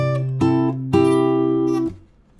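Fingerstyle acoustic guitar playing part of a theme from Up: a few plucked notes and sustained chords ringing out in three clear attacks, close and alone, fading at the end.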